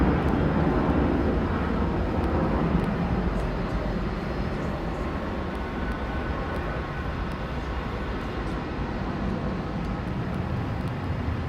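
A Cathay Pacific Boeing 747 landing at Brisbane airport, heard as a continuous loud, broad jet roar that holds steady and slowly fades a little over the span.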